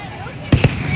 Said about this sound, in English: That's another one. Perfect firework.